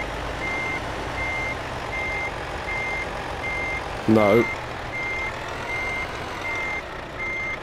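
Reversing beeps from a Volvo truck in Euro Truck Simulator 2, a steady evenly spaced series of high electronic pips running throughout over low engine rumble, with a brief burst of another sound midway.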